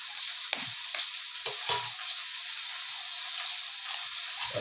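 Ham and egg fry in a pan with a steady, bright sizzle throughout, broken by a few soft clinks and stirring knocks close by.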